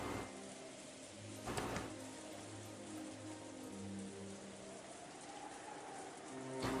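Continuing wind and rain in the dim early morning make a quiet, steady patter and wash, soft and even throughout, with a couple of brief louder bursts and no speech.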